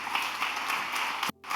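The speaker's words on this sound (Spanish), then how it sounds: "Si vas a aplaudir, aplaudile con todo," A church congregation claps in a lively burst of applause that runs on steadily and then cuts off abruptly near the end.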